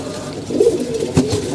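Pigeons cooing at close range in a domestic loft, a few low, soft throaty coos rising and falling over a faint steady background, with no voices.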